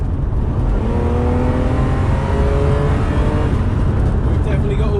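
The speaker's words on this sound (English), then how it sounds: "Let's take it out for a drive, see how it drives though. So, as you can see, I'm probably here, so I put my foot down." A Ferrari engine revs up hard under acceleration on a test drive, its pitch climbing steadily in a loud, continuous roar heard from inside the car.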